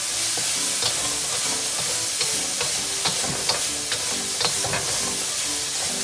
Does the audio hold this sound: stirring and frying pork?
yes